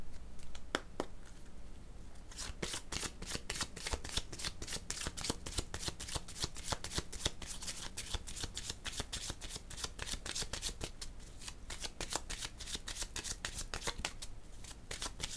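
Tarot cards being shuffled continuously for a long stretch, a dense, crisp run of riffling flicks and slaps, close and steady without talk.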